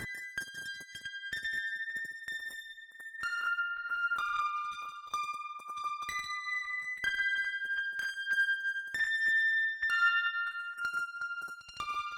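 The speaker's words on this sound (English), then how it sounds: "this is the ARP3 signal that goes to a multitap delay" Pure Data ARP3 synth arpeggio run through a time-varying multitap delay: bright glassy sustained tones stepping between pitches, with shimmering echoing repeats layered on top, steady and fairly loud throughout, no voices.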